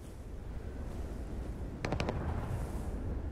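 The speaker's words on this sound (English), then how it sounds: "Fireworks!" In the Starfield video game, a quick burst of three or four sharp firework bangs cracks in rapid succession over a constant low rumbling background, close and fairly loud, followed by a faint crackling fizz.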